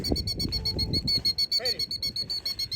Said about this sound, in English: there's this bird over here, which clearly has eggs. It keeps growling at us, or chirping at us